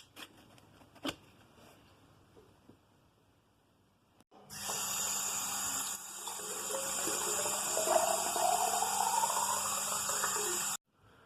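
Water pours steadily from a container into the tank of a cheap home air humidifier, a continuous splashing, filling rush that starts after a few quiet seconds and runs for about six seconds before cutting off.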